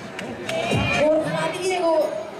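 Spectators at the 2012 San Silvestre popular race make a steady roar of cheering and applause, with loud bursts of voices rising and falling through the crowd for a couple of seconds.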